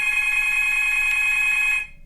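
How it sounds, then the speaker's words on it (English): A telephone rings indoors with a single sustained electronic trill that lasts nearly two seconds and then cuts off abruptly. The ring is steady and fairly loud, with no talking over it. "Don't mind the phone."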